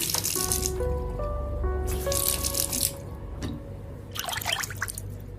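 A broken kitchen sink faucet with water dripping and trickling, close pinging drops with resonant ringing tones, interrupted by bursts of splashing and gurgling flow.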